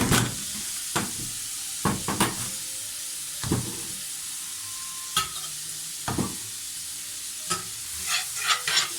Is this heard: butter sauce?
yes